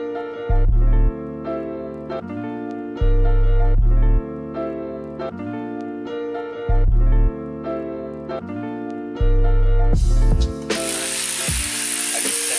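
A hand ratchet tightens intake manifold bolts on a Nissan 350Z, giving loud, close, repeated clicking strokes in a steady rhythm, with a brief burst of hiss near the end.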